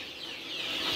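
Sentul chickens clucking on a small hobby farm, a steady close chorus of hen calls that swells slightly toward the end, with no talking.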